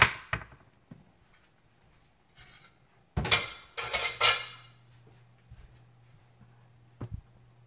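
A metal lid clanks onto a pot of oxtail stew in a tomato base on the stove, with a few sharp clinks and rattles and some quieter utensil taps before and after.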